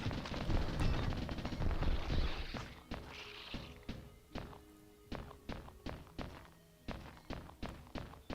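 Video game gunfire: a loud, dense burst of shots for the first few seconds, then sharp single bullet impacts at an irregular, fairly quick pace, each one close and punchy.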